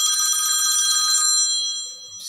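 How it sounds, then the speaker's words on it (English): A phone alarm rings as a steady, loud electronic tone with bright repeating harmonics, briefly dropping and then returning near the end. "that was my alarm."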